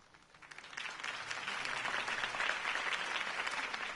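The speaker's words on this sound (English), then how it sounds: "If only Mr. Wayne, my campaign's largest backer, could have heard that applause" Crowd applause in the Batman: The Telltale Series video game swells up from quiet into dense, sustained clapping that holds steady for several seconds, heard alone without speech.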